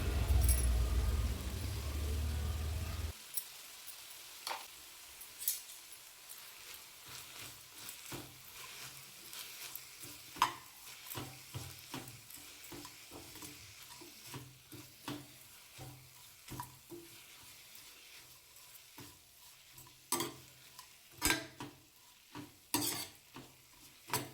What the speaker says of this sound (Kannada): ಇದು ಸ್ವಲ್ಪ ಚೆನ್ನಾಗಿ ಎಣ್ಣೆಲಿ ಫ್ರೈ ಆಗಲಿ